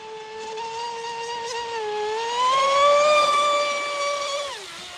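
A Proboat Impulse 32 RC speedboat doing a speed run on water, its electric motor giving a loud, sustained high-pitched whine that climbs steadily in pitch as it accelerates, then drops sharply near the end, with no talking.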